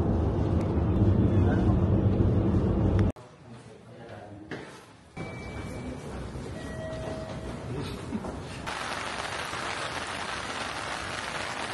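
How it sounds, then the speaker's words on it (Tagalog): Steady light rain patters on a surface, first under a loud rumbling aeroplane, then with softer scattered drips and a brief faint tone. "Guys, may konting ulan lang."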